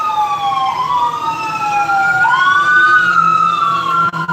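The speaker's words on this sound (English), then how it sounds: "A fire truck going right down my street." A fire truck siren wails loudly as it passes down a city street, its tone sweeping up and down in long glides over a steady rumble of traffic, with no voices.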